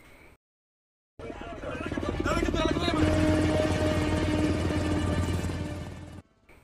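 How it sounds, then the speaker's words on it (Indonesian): Several helicopters circle a lifeboat in a film about pirates hijacking a container ship; after a brief silence, a loud, steady rotor drone rises and holds, layered with a dense soundtrack until it cuts off. "Beberapa helikopter terlihat mengepung Skoci."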